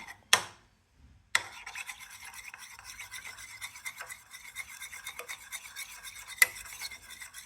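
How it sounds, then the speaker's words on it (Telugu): A saffron face pack with honey being stirred in a small bowl: a spoon scrapes and rubs continuously in soft, close, repeated strokes after two sharp taps, with a brief clink near the end. "సో ఇప్పుడు దీన్ని మంచిగా మిక్స్ చేసుకుందాం"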